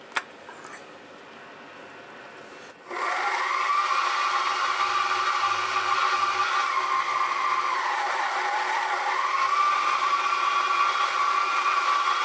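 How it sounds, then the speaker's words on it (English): A 3mm drill bit bores into a metal test piece after a sharp click, its motor rising to a steady high whine that dips briefly under load before recovering, close and continuous. "Let's try a 3mm drill bit."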